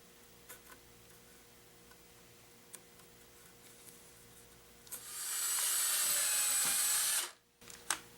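A power drill bores a hole through a handle for a DIY grinder slider jig, a faint tick before a loud, steady whir of about two seconds that stops abruptly, followed by a few small clicks.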